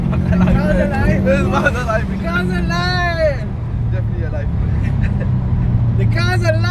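A Subaru Impreza GC8 engine rumbles steadily at a low pitch while several people talk and shout excitedly over it.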